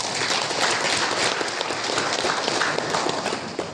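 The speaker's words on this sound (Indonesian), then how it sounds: "Tepuk tangan dulu buat kelompok Cipayung." An audience of student organization members claps loudly and continuously at a gathering in Papua, a dense, even wash of applause throughout.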